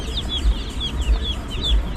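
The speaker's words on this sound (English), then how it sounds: "There are about 40 pieces, 40 chicks in there." Broiler chicks at a poultry farm chirp in a steady stream of high, thin peeps, with a low background rumble underneath.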